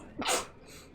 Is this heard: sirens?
no